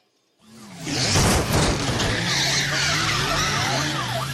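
A car skids with long, loud tire squeals that sweep up and down over a steady engine drone, the screech building quickly after a brief silence and holding strong to the end.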